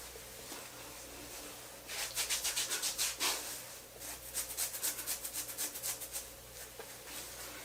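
Hands rubbing coconut oil into a beard, a close, quiet scratchy brushing in quick rhythmic strokes that come in two bursts with a pause between them, no talking.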